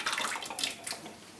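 Potatoes dropped into a pot of water with sugar and syrup, giving soft splashing and sloshing bursts, close and fairly quiet, fading toward the end.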